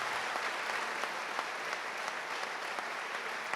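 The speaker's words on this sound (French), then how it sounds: "On va applaudir Clément, Laurence et le professeur Aubourg" An audience applauds steadily at an award ceremony, a dense even patter of many hands heard at moderate distance without speech.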